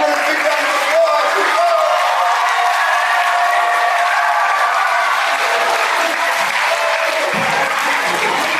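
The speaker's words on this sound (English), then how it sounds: "let's give Dr. Bridgewater a big round of applause." Steady applause from an audience at a farewell gathering for a departing doctor, dense and sustained for several seconds, with voices speaking over it.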